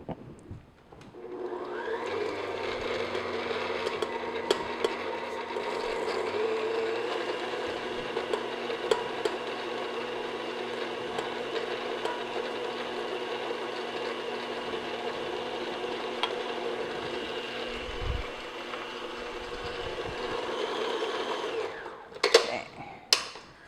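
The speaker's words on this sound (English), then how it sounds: "with the mixer on like maybe medium speed" An electric mixer beats butter and sugar at medium speed with a steady mechanical whir for about twenty seconds. A slight change in its pitch comes early, small knocks of the beaters against the bowl sound throughout, and it stops near the end.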